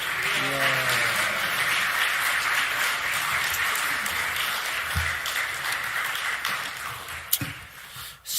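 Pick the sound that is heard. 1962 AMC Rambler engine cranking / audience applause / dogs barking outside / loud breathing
audience applause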